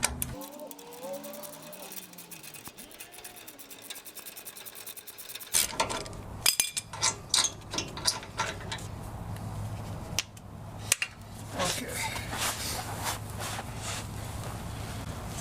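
A wrench works loose a brake caliper bolt on a 1996–2002 Toyota 4Runner during a Tundra brake upgrade, giving close bursts of rapid ratcheting clicks and metallic knocks after a stretch of talking.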